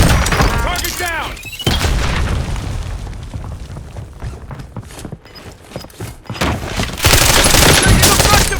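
Gunfire in the battle royale game Warzone: loud rapid bursts and booming shots crackle close by, tailing off mid-clip before another dense fusillade, with game voice lines heard among the shots.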